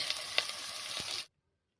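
Onion and potatoes frying together in a pan give a steady, close sizzle with a few sharp crackles, running about a second before cutting off to silence.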